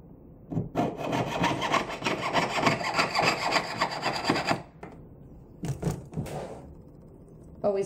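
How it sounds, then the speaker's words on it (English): A jeweler's saw cuts through metal to free a ring shank, making rapid, rhythmic rasping strokes for about four seconds, then a few short scrapes and a clatter close by. "I'm going to take your saw and you're just going to cut this out"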